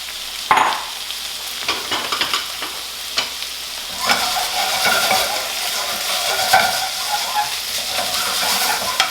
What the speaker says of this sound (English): So I'm going to saute this for a minute, and then I'm going to add my saltfish.